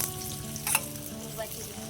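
Chopped onion and peanuts fry in hot oil in a wok, making a soft continuous sizzle with a couple of brief stirring scrapes. There is no talking.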